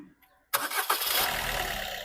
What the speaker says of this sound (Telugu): సింగిల్ సెల్ఫ్లో స్టార్ట్ అవుతుంది సార్, ఎటువంటి స్టార్టింగ్ ట్రబుల్ అయితే లేదు